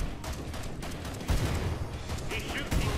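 Sniper rifle gunfire in the video game Killing Floor 2, a busy stretch of repeated shots and gunfire bursts layered over dense game noise and chaos, fairly loud throughout.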